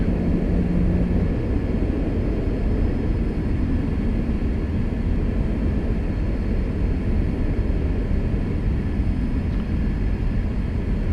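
Steady, loud broadband engine roar of a Cessna Citation II jet simulated in X-Plane 11, a continuous cockpit drone with no voices.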